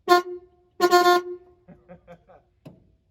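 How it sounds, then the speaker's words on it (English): Two loud honks from a 1971 Dodge Charger Super Bee's horn, a short toot followed by a longer blast, then a person speaks briefly. "I hope you guys heard the horn worked."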